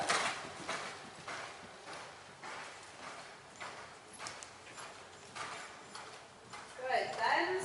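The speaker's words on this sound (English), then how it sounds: "This is a better canter for you to start with." Horse cantering in a riding lesson, its hoofbeats falling in a steady repeating rhythm of muffled thuds, close and moderately loud throughout.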